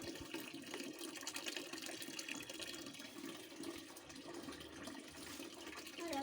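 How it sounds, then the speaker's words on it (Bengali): Tap water runs continuously while plants are being watered, a soft, even splashing hiss for the whole stretch without any break. "এই কলের জলটা চালিয়ে দিলাম, কলের জলে এবার গাছগুলো একটু একটু করে জল দিয়ে দেবো।"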